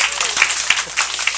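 A small audience at a live entertainment show claps in a brief, dense burst of applause, close and fairly loud, with scattered sharp hand claps standing out.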